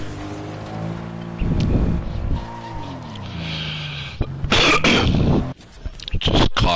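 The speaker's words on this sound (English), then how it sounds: "Just coughing into the microphone." A person coughs into a microphone, a few harsh, close bursts breaking up around steady engine-like game noise and some voice.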